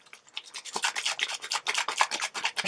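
Rapid rhythmic sloshing and swishing, like liquid shaken hard inside a closed container, steady back-and-forth strokes with no voices.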